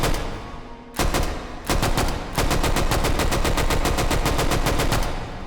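M3 "grease gun" submachine gun firing in the VR shooter H3VR, a few single shots, then a sustained slow-cyclic burst of evenly spaced loud reports, close and alone.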